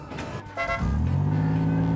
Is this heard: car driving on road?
yes